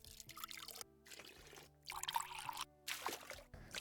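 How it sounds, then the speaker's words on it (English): Water sound effects auditioned during podcast editing: a few pouring and trickling bursts of liquid, each lasting about a second, separated by short silent gaps, fairly loud and with no talking over them. "all these water sounds"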